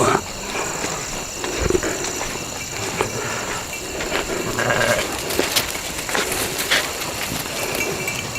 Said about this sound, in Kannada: ಇವೆಲ್ಲ ಕುರಿ ಇವು ಕುರಿ ಇದೆ